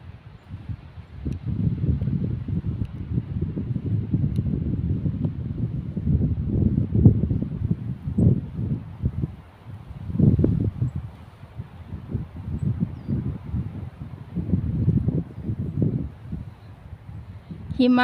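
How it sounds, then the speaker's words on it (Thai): Strong wind buffets a microphone outdoors on a road near a snowy forest, a steady low rumbling roar with gusts that swell and fade throughout, loud and close. "อยู่บนถนนนี่ก็คือลมแรงมากเลยค่ะ"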